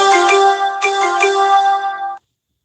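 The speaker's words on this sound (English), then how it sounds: "That's just my phone telling me that the Red Wings lost." A phone notification chimes loudly as a bright, melodic electronic jingle of a few quick tones, heard alone and ending abruptly after about two seconds.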